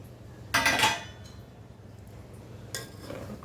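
Metal lid set onto a cooking pot of simmering broken rice for pulihora on a stove, giving a bright clattering clink followed by a softer second clank, alone over low kitchen hum.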